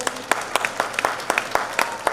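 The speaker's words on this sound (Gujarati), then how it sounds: "તો મારું સમાજના તમામ ભાઈઓ માટે જોરદાર તાળીઓ થઈ જાય" An audience at a community charity event applauds, a burst of scattered, sharp claps repeating in quick irregular rhythm, moderately close and filling the short moment alone.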